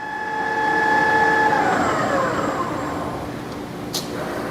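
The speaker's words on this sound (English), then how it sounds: "He's using the joystick to rapid the Z-axis." A 2008 Trak 18 x 40 two-axis CNC flat bed lathe carriage rapid-traverses along the Z-axis, making a continuous motorized whine with falling tonal sweeps over steady machine-shop hum. A brief sharp click follows near the end.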